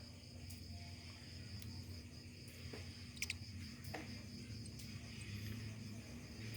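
Faint, steady chirping of crickets fills a quiet night, with a few brief clicks and distant soft noises.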